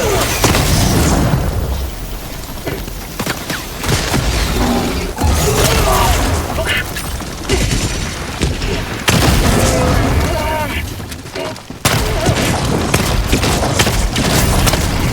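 Explosions from grenades and other fire in the video game Helldivers 2 boom repeatedly through dense, loud battle noise, with several sharp bursts and shots across the stretch and a player's voice talking over the action.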